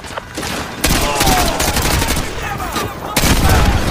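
Loud, sustained gunfire in Call of Duty Modern Warfare 2, dense overlapping shots and bursts filling nearly the whole stretch, with a brief lull before another heavy volley near the end.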